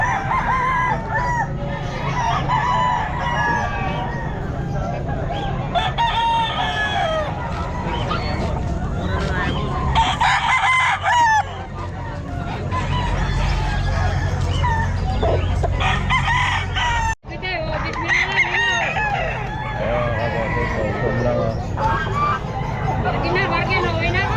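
Several roosters crow repeatedly, loud and near, at the busy Calumpit pet market, amid clucking fowl and a constant babble of people talking.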